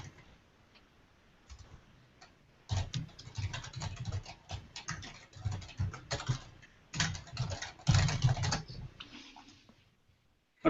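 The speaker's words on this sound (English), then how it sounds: "Typing this commit message is painful." Fingers type on a computer keyboard in irregular bursts of quick, close clicks and clacks, with short pauses between flurries and no talking.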